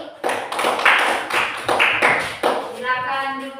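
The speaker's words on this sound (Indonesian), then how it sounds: "Coba tepuk tangan kepada kelompok 3." A class of fifth-grade children claps for group 3, a burst of mixed, uneven hand claps with voices chattering over it in a busy classroom.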